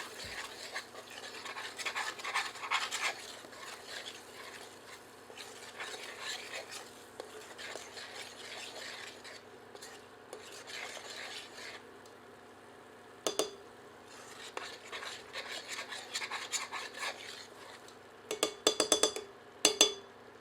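A spoon scrapes and stirs curry masala for chicken tikka masala as it sautés in a pan. Rasping strokes come in uneven bursts, with a few sharper clinks of metal against the pan near the end.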